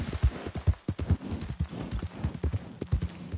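Horse hooves clip-clopping in the video game Red Dead Redemption 2, a steady, close, rhythmic walking beat of dull thuds on a dirt path, loud and continuous with no talk over it.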